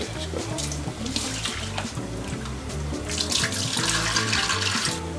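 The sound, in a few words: water running from tap while washing rice and pulses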